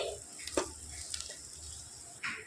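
Ginger, garlic and green chilli are stirred in a pan over a low, steady sizzle, with a few short spatula scrapes and clinks close by.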